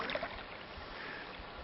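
A canoe glides across the water, with faint soft paddle splashes and gentle lapping heard quietly for a moment, no voices.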